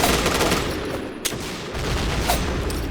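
Bursts of gunfire from a first-person shooter match rattle almost continuously, with a sharp louder shot near the middle and another around the end, all loud and close with no one speaking.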